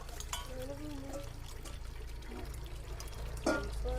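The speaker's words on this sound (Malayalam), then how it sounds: "നമ്മൾ പാത്രം കഴുകിയിട്ട് വരട്ടെ കേട്ടോ" Water runs and splashes quietly as dishes are washed, with occasional clinks and a louder splash near the end, somewhat distant.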